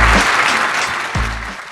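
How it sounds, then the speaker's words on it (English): A short burst of close clapping from a small group at the end of a podcast recording, loud at first and gradually thinning out. "Normally there's music, but clapping will suffice."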